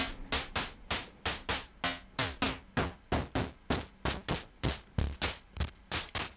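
Short synthesized bursts of white noise repeat in a steady, quick rhythm, each one sharp at the start and then decaying, with no voices.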